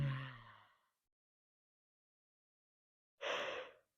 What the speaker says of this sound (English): Well, that was a real yawn.